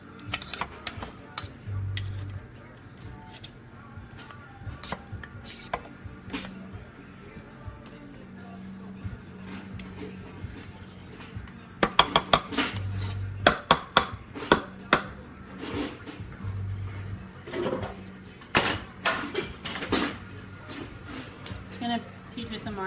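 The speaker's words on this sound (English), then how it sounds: "I'm gonna scoop some out with this one and then just, you know, move it off the spoon with the other spoon" Spoons clink and scrape as batter is scooped from oiled muffin tins for a quick kid-friendly snack, producing scattered close metallic taps and scrapes under ongoing talk.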